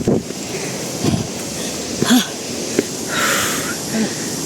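An older hiker pants heavily on a trail at Leuwi Hejo near Sentul, the close, ragged breaths set against wind and outdoor noise.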